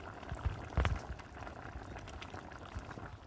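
Kalibaus fish slides into a pot of cauliflower curry with a soft thud and splash around the first second, followed by a steady low bubbling simmer with no talking.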